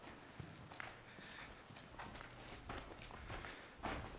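A horse shifts and steps nearby with soft hoof thuds and clip-clop, irregular movement heard alone over a low background while being readied for an English saddle.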